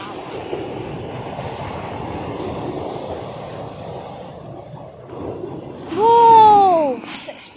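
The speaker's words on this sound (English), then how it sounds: "Okay, lots of water coming in right now. Whoa, that's massive!" Big waves roll and crash continuously on the shore at Staithes in the UK, a loud churning wash with a brief rising surge near the end, under faint background sounds.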